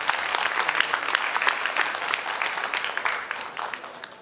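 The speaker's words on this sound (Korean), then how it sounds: "다시 한번 새롭게 축하의 박수 부탁드립니다." Audience at a Daegu city award ceremony marking Elder Abuse Prevention Day applauds steadily, a dense wash of many hands clapping that continues for several seconds without pause.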